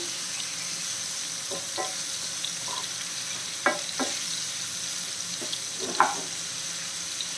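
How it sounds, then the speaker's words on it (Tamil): Pieces of chicken frying in a little oil for onion chicken, a soft steady sizzle broken by several sharp clatters and scrapes as the pieces are turned in the pan. "இந்த எண்ணெயிலே திருப்பி திருப்பி போட்டு கொஞ்சம் வேக வைக்கணும்"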